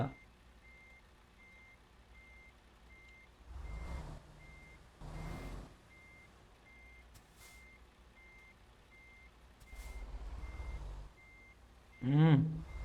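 A truck in American Truck Simulator reverses with steady evenly spaced beeps, broken by several hissing engine or air-brake bursts and a rising whine at the end.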